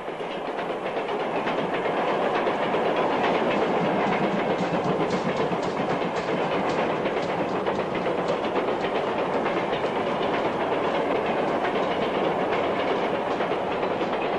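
Steam engine train rolling steadily with continuous clickety-clack rail noise and hissing, loud and close throughout, no voices.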